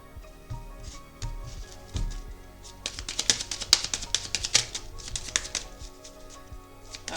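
Tarot cards are handled and cut, giving soft shuffling taps at first and then a dense run of crisp, close card slaps and riffling clicks, with no talk.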